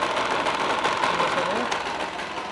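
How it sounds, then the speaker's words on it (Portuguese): A worn Yamaha DT 200R motorcycle engine runs steadily up close, a dense continuous mechanical drone with a rough, knocking texture and no pauses. "Sempre perto do motor que fica mais barulhento, mas essa moto está terrível mesmo"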